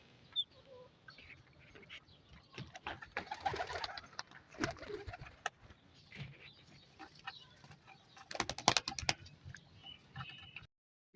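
A hungry pigeon keeps coming down to grain and water and going back up, giving soft coos and scattered wing flutters and shuffles, faint and close, with a few sharper bursts partway through.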